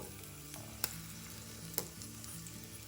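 Cloves, cardamom, ginger, garlic and curry leaves frying gently in oil over a low flame, a soft, quiet sizzle with two sharp ticks of a utensil against the pan.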